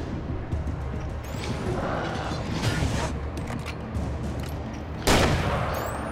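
Gunfire in the video game Alan Wake, a few sharp shots ringing out over a murky game soundscape, the loudest one near the end, with a player occasionally speaking.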